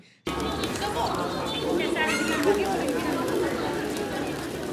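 Pigeons coo and flutter at Kathmandu Durbar Square during a festival, heard under loud crowd chatter and nearby voices.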